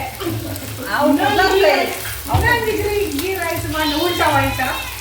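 Onions frying in a pan give a steady, soft sizzle running beneath someone talking continuously nearby.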